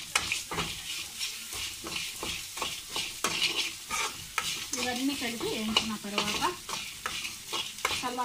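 Bitter gourd powder frying in oil is stirred briskly in a pan, with a rapid run of scraping strokes over a steady bright sizzle, close and fairly loud throughout.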